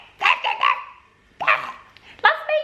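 A person imitates the yapping of a Jack Russell terrier, giving three or four short, high, nasal yips in quick bursts, then a pause and more yaps, close and loud.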